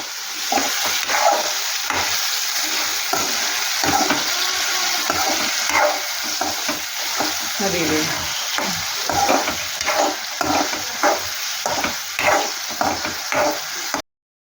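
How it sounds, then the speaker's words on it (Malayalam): Green chillies, garlic and mango sauté in a hot pan, a steady close sizzle broken by repeated scraping stirs throughout, with no talking. "നമ്മൾ പച്ചമുളകും വെളുത്തുള്ളിയും മാങ്ങയും കൂടിയും ഇട്ടിട്ട് നന്നായിട്ടൊന്ന് വഴറ്റിയെടുക്കുക"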